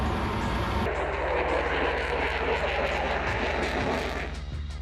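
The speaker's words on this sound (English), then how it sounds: "The engines spool up beneath you with a sound you feel in your chest before you hear it." A loud, steady roar of F-22 fighter jet engines spooling up, with a deep rumble and rising whine filling the whole clip, close and unbroken.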